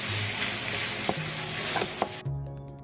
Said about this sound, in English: Give it a stir until the pork is cooked through.